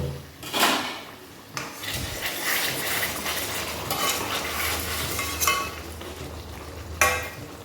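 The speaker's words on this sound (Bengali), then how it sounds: "এবার আমি সামান্য একটু গরম জল দিয়ে দেবো গা মাখা গা মাখা করে ফুটলে নামিয়ে নেবো" A pan of boal fish curry in Bengali oil-spice style gets hot water poured in, then stirred, with scraping clinks of a spatula on metal and a soft sizzling bubble underneath, close by.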